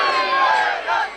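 A crowd at a religious gathering shouts the Haidari battle cry together, a brief loud massed chant of many voices, close and sustained before trailing off.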